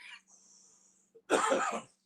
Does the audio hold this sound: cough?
yes